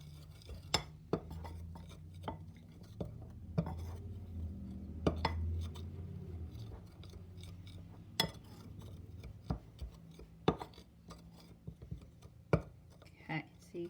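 Cornstarch and dish soap are stirred together in a dish. A utensil scrapes and clinks against the dish in irregular, quiet taps. The room is otherwise quiet, with faint low background hum.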